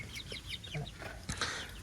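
Chickens clucking close by in a short burst of repeated clucks and squawks, with faint voices in the background.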